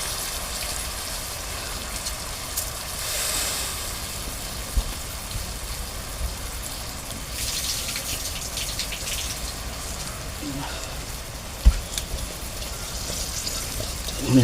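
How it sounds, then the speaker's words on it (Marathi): Water is poured into a pot of rice and field beans for khichdi, making a continuous gushing, splashing fill that comes and goes in loudness, close by, with a few faint clinks. "पाणी घालू जसं आपण आपलं भाताला घालतो तसंच"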